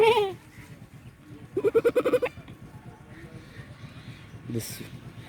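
A lamb near a temple in a rural Andhra Pradesh village bleats loudly up close in a few short, wavering cries, with someone talking between them.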